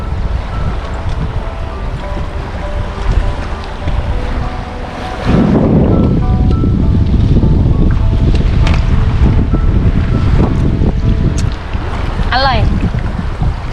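Wind buffets the microphone on a boat out on clear sea water off Samaesan during a squid fishing trip, with steady wave and hull wash throughout, rising louder midway, and a brief tonal chirp near the end.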